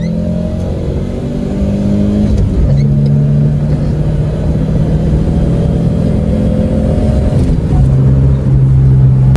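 Racing cars in a video game race, engines droning loud and steady with rising and shifting revving tones as gears change, continuous and close throughout.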